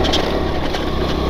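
Motorboat engine running near an abandoned hydroelectric plant, a loud steady drone with water noise that gives only a brief sense of acceleration.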